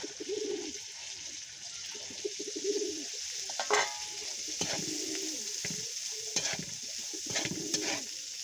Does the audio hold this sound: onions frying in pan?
yes